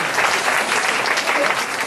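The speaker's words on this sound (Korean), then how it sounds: "박수 환영하겠습니다" Dense, steady applause from a church youth gathering fills the whole moment, many hands clapping together at close range to welcome a pastor and two students from a visiting church.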